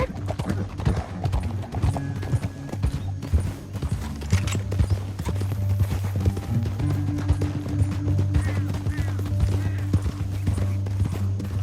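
Horses gallop in Red Dead Redemption 2, their hooves pounding in a fast, continuous clatter over low rumbling music, with an occasional whinny and men calling out.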